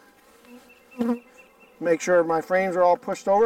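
Honey bees buzz in loud, wavering surges during a hive inspection, a person talking quietly just before the close buzzing swells.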